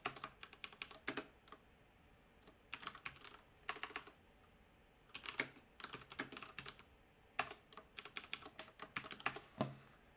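Computer keyboard typing in a text editor, bursts of quick clicky keystrokes separated by short pauses, close and fairly quiet with no voices.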